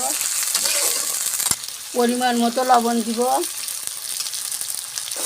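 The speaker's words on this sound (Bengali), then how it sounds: "আমি সুন্দর করে আলুটা একটু ভেজে নিব।" Cut potatoes sizzle and fry in hot oil in a pan with a steady crackling hiss, while a brief burst of stirring or frying clatter comes up midway and someone speaks briefly over it.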